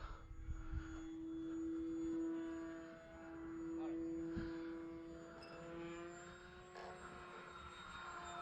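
A small RC airplane, an X-Fly Tasman, drones overhead, its buzzing engine pitch rising and falling as it passes, with faint background noise.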